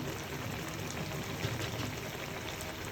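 Cooked greens curry is tipped out of the cooking pot into a bowl, making a steady, continuous wet pouring rush, close and moderately loud throughout.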